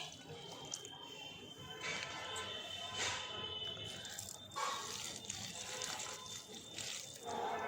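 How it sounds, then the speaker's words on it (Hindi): Water is poured onto wilted potted plants and an aloe vera, making a faint, close splashing that comes in several uneven bursts. "सबसे पहले तो इनको डालती हूँ पानी और एलोवेरा को भी डाल देती हूँ पानी।"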